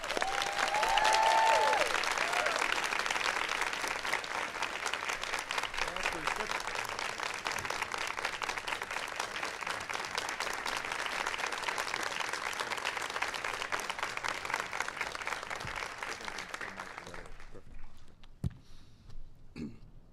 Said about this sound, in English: Give Jeff a big round of applause